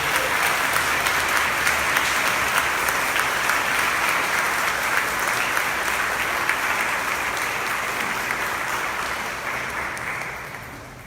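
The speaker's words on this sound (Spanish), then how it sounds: "Vamos a dar un fuerte aplauso a Jesús de Nazaret." Audience at a Catholic religious gathering gives loud, sustained applause, a dense even roar of clapping that holds for several seconds before gradually tapering off near the end.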